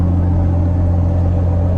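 A Toyota Land Cruiser 80 series on solid axles with 40-inch tires, coilovers and an open dump exhaust drives along, giving a loud, steady low engine rumble with a constant drone throughout.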